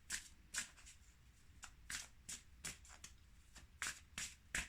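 Oracle cards being shuffled, several short separate riffles and flicks set against a steady low hum, close but fairly quiet, with no speech.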